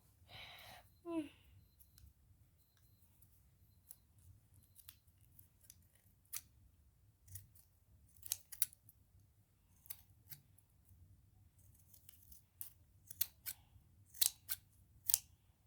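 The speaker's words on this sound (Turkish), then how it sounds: "kartonları kesiyorum." Scissors cut cardboard to make furniture for dolls, giving a series of crisp, close snips that come in irregular bursts and grow more frequent toward the end, with brief speech near the start.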